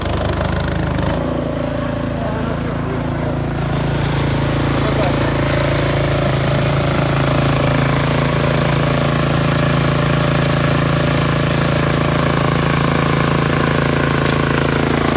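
A Stanley snowblower's engine runs at a steady, loud, close idle with a constant low drone and hum throughout, holding an even level from start to finish.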